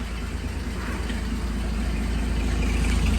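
A 1944 Dodge WC56 command car's flathead six idles cold with the choke off, a steady low rumble with even pulsing, close and continuous without talk.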